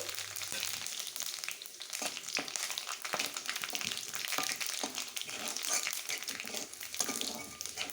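Whole spices frying in oil: dried red chillies, bay leaves, cumin seeds, green and black cardamom, peppercorns and cloves crackle and pop in a soft, steady sizzle, with scattered sharp spits throughout.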